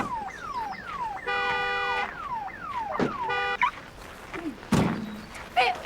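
A parked van's alarm blares nearby, cycling through rising and falling whoops and rapid warbling beeps in repeated loud bursts, with a few sharp bangs toward the end and no clear speech.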